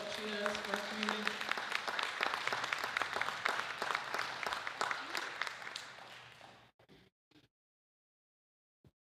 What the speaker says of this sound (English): Let's give Pat a huge round of applause for what she does for our community.